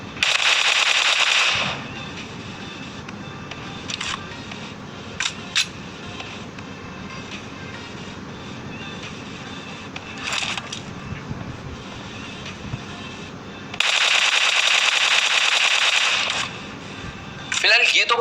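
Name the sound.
machine gun fire in PUBG Mobile video game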